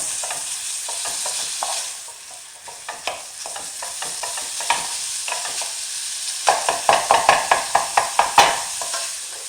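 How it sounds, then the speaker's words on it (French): Minced beef browning in a pan with onions and garlic, a steady sizzle broken by repeated utensil scrapes and taps that quicken into a run of sharp strokes toward the end. "Je rajoute la viande hachée que je vais éviter pendant la cuisson."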